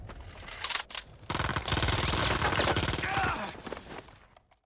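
German troops open fire in a dense volley of gunfire, rapid cracking bursts that run for several seconds before cutting off, loud and close with no talking.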